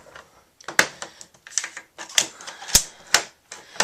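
Scoring a basic 5x7 envelope on a Martha Stewart scoreboard gives a run of sharp, close clicks and scrapes in an irregular rhythm. Several louder snaps stand out among quieter rubbing sounds, with no talk.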